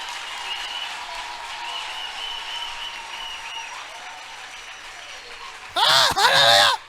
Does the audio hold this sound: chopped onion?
no